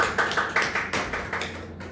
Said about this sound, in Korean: 격려의 박수 보내주시면 힘이 날 것 같습니다.